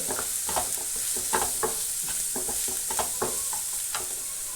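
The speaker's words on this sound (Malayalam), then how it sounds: "അപ്പോൾ നമ്മൾ ഇതെല്ലാം വഴറ്റി കൊടുക്കുന്നുണ്ട്" Chicken filling with garam masala being sautéed in a pan: a soft, steady sizzle with irregular scraping and clinking strokes from stirring, heard up close.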